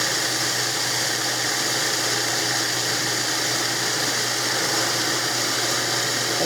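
A grinder milling oats into oat flour, running as a steady, loud motor whine with a gritty, even hum that holds unchanged from start to finish.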